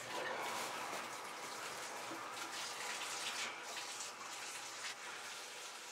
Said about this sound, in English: Can you turn on the water?